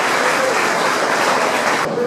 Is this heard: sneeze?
no